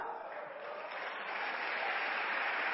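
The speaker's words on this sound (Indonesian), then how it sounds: "Ya Allah, yang tepuk tangannya keras" An audience at a motivational talk breaks into dense, sustained applause that swells slightly louder toward the end, steady and close, with no voices heard.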